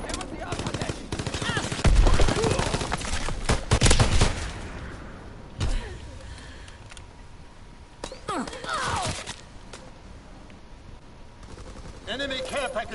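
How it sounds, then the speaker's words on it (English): Call of Duty gunfire rattles in bursts, loud automatic volleys rising and falling, while someone talks over the shooting. "Bullets going right past him."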